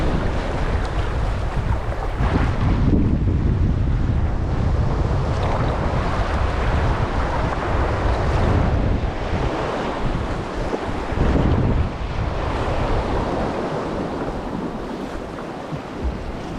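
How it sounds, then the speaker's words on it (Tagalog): Continuous roar of ocean surf mixed with heavy wind buffeting the microphone, loud and unbroken throughout. "Nadadala tayo ng alon."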